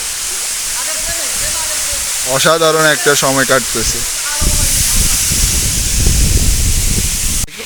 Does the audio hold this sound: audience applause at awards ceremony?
no